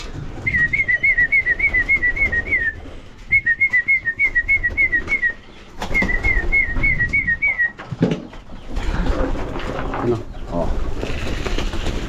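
Pigeons in a loft are fed while a person whistles a repeated trilling call in three runs over low cooing and shuffling, and someone talks nearby.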